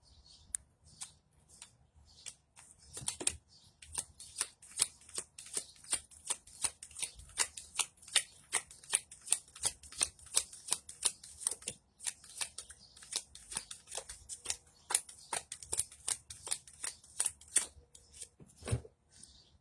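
Tarot cards shuffled by hand before a reading, close and crisp, a long run of rapid riffling snaps and flicks in quick irregular bursts with brief pauses, no voices over them.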